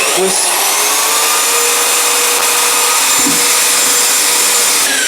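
Power mixer whisking floor screed in a bucket while preparing a subfloor for Marmoleum, a loud, steady whirring drone that runs unbroken from start to end.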